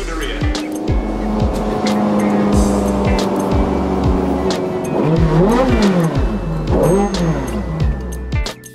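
A 2009 Ferrari F430 Scuderia drives with a loud, close engine that rises and falls through rev changes, with pitch sweeping up and down near the end, under steady road and wind noise.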